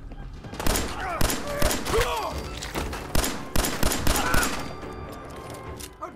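Gunfire rings out in the video game Fallout 4, with repeated sharp shots and thumping bursts spread across a noisy firefight, along with a brief shout.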